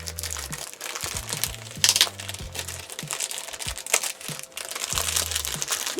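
A plastic shopping bag sealed with tape is torn open by hand, giving bursts of close, loud crinkling and crackling with sharp rips and brief pauses between pulls.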